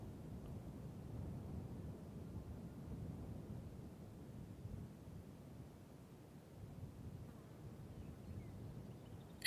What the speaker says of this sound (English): although it's still very windy